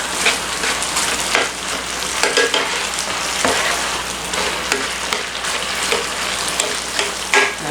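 Broccoli is spread into rice frying in a pan for a chicken broccoli and rice casserole, a loud continuous crackling sizzle broken by irregular scraping stirs and small pops.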